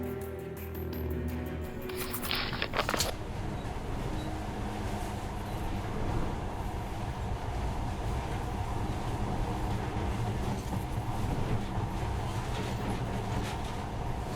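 Monorail ride in the video game Metro: Last Light, a steady rolling rumble with rattling carriage noise that holds at an even level throughout, with a brief higher-pitched clatter near the start.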